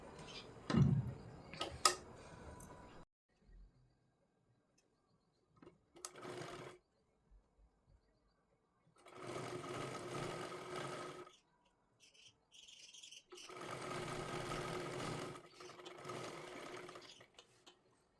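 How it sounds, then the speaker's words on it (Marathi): A sewing machine stitching a puff sleeve, running in several bursts of rapid rhythmic whirring separated by quiet pauses, with faint handling ticks between runs. "परत एकदा अशा पद्धतीची ह्याच्यावरती शिलाई मारून घ्यायची आहे"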